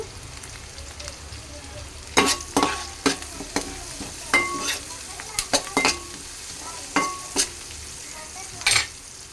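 Chicken fries in a pan and is stirred, with a steady sizzle under repeated sharp scrapes and clanks of a spatula against the metal, close and irregularly paced.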